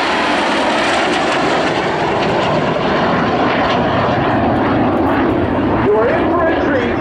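A Canadian Hawk One F-86 Sabre jet roars past at the 2012 Hamilton Airshow, a loud, steady engine rush whose pitch sweeps downward as it passes, with no speech heard.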